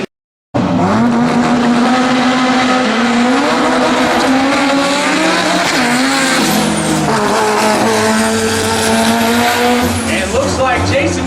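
A 1994 Honda Civic hatchback engine screams loud and close at N.C. Dragway, its sustained high-revving drag-racing roar rising and falling through gear changes for around ten seconds, with faint tire squeal mixed in after a brief silent start.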